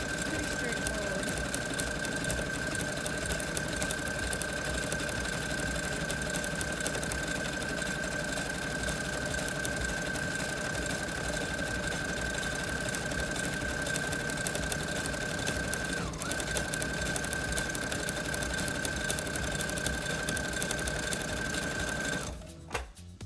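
A Brother CS7000i sewing machine sews a cowboy hat, running continuously and loudly with a steady whirring hum for over twenty seconds before stopping.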